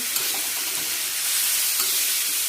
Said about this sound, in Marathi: आता हे चांगलं मिक्स करून घ्यायचं आहे आपल्याला